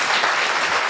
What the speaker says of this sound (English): Give him a nice applause first of all